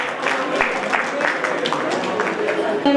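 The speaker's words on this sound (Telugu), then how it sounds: "చప్పట్లతో వారికి స్వాగతం." Audience claps in welcome as guests are invited onto the stage at a senior citizens' day event in a hall in Nizamabad, a steady moderate patter of many hands over faint crowd murmur.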